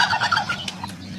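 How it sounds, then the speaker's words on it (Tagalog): Several turkeys gobble in quick, overlapping bursts, loud and close, filling a brief moment with rapid warbling calls. No voices are present. "marami na naman tayong pabo"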